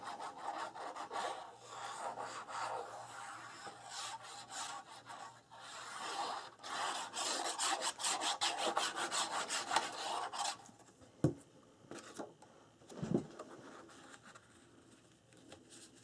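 Paper is burnished down onto a baby album page with repeated brisk rubbing strokes, a dry scratchy rasp for about ten seconds, followed by a few isolated taps and softer handling sounds.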